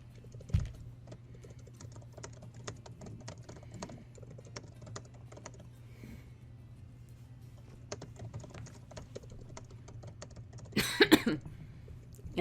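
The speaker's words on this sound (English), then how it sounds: "Intense typing." Intense typing on a computer keyboard, a steady flurry of clicking keystrokes over a low background hum, ending in a louder burst of rapid key strikes.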